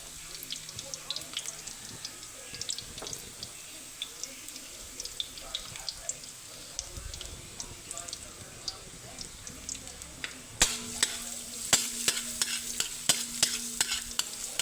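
Garlic sizzles softly as it is sautéed and stirred in a pan, with scattered light scrapes and clinks of a utensil that grow sharper and more frequent toward the end.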